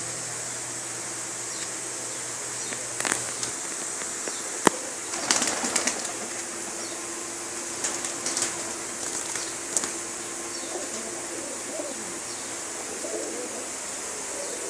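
Teddy pigeons in a loft coo softly under a constant background hiss, with scattered wing flaps and sharper rustling bursts interrupting the low, intermittent calls.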